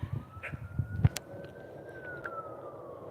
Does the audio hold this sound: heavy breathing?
no